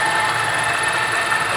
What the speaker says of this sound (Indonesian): Nah, itu suara mesinnya.